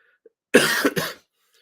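A single harsh cough bursts out close up, followed by a second shorter cough, with silence on either side.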